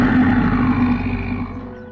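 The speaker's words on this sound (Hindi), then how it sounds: "ये दहाड़ तो उस खूंखार भालू की है।" A single deep, rumbling bear roar in an animated cartoon, loud and close, slowly fading over about two seconds.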